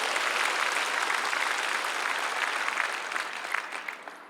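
Sustained applause from a large church congregation, dense and steady clapping that fills the whole stretch and tapers slightly toward the end.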